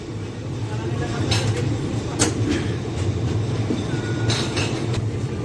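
A Hyderabad–New Delhi train departing from platform 4 of a Central Railway station rumbles steadily and close by, with a few sharp metallic clanks and wheel screeches over the low rolling noise.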